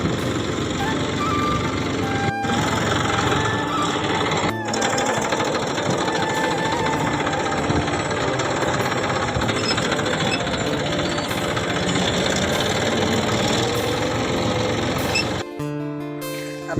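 A tractor engine runs while sowing in a field, a loud, close, continuous mechanical rattle and drone that holds steady before cutting off abruptly near the end.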